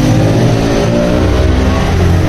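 A young rider's motorcycle engine revs loudly and close by on a street, a steady mid-pitched roar that holds throughout with no pauses.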